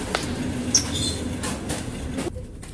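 A passenger train pulls into Darkhan station, heard from on board: a steady rumbling roll with wheel clicks and a faint squeal, ending in a quieter moment.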